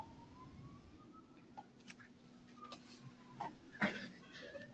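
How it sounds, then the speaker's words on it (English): A faint siren wails far off, thin and steady, beneath quiet room noise and a few soft clicks and taps. "I hear sirens in the back there, Fred."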